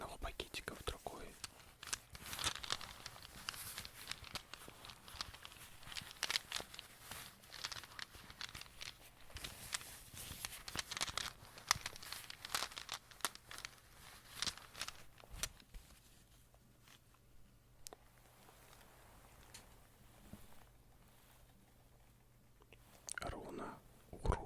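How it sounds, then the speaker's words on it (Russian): Small rune stones shifted from one little bag into another, with soft clicking and crinkling of the bags, close and quiet, under soft whispering. "Перекладываю руны из одного пакетика в другой."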